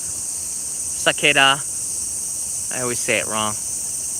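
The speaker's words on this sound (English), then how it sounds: "Cicada." Cicadas in a Japanese garden, among the trees, keep up a loud, steady high-pitched drone throughout, while a person speaks a few brief words over it.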